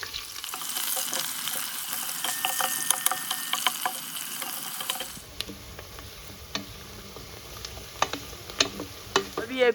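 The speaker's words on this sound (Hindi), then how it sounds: "इसमें हम फ्राई कर लेंगे अभी प्याज को भी हम अच्छी तरीके से फ्राई कर लेंगे ज़ीरा के साथ इस तेल में" Onions and cumin frying in hot oil for Kashmiri khichdi, a steady close sizzle with bursts of crackling and occasional stirring clicks against the pan, with no voices.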